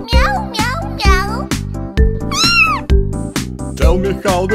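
A singing voice imitates a kitten's meow in a children's animal-sounds nursery song, giving a series of bright, rhythmic 'meow' calls over bouncy backing music.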